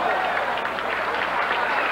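Crowd applause at a 1998 PBA professional bowling tournament forms a dense, steady roar of clapping with a voice faintly running beneath it.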